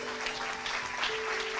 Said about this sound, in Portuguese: Então vamos aplaudir